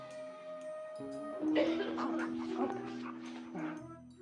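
A dog whimpers and gives short yips close by, with people talking in the background.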